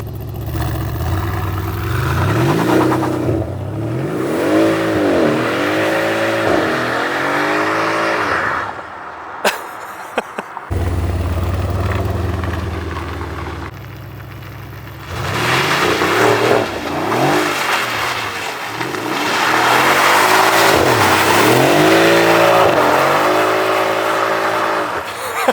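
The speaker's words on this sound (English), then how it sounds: "The exhaust sounds good though in here. Sounds great." A car engine revs up repeatedly in loud bursts, its exhaust note rising and falling, with a brief quiet gap midway.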